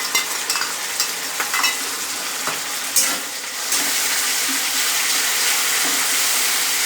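Chili sauce and soy sauce fry and sizzle in a pan while being stirred for a chili egg dish, with scraping strokes over a continuous hiss that grows steadier and louder partway through; no speech.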